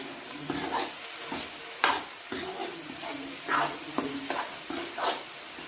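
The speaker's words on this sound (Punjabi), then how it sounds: "ਸਾਰਾ ਪਾਊਡਰ ਆਪਾਂ ਇਹਦੇ ਵਿੱਚ ਮਿਲਾ ਦੇਣਾ। ਜੋ ਵੀ ਉਹ ਥੋੜਾ ਬਹੁਤਾ ਪੱਕਣਾ ਹੋਇਆ ਪੱਕ ਜੂਗਾ। ਹਲਦੀ ਆਪਣੀ ਵਿੱਚ ਮਿਕਸ ਹੋ ਜਾਵੇ। ਚੰਗੀ ਤਰ੍ਹਾਂ ਹਿਲਾਓ।" Turmeric panjiri stirred as it fries in mustard oil, with rhythmic spoon strokes scraping through a soft sizzle, each stir rising in a short swell.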